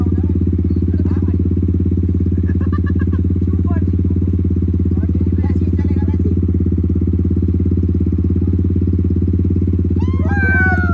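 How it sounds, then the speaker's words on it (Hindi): A motorcycle engine runs at a steady, loud idle close by, a constant throbbing drone throughout, with faint voices and a few small clatters over it. "गाइस वो लोग तो चले गए बाइक में"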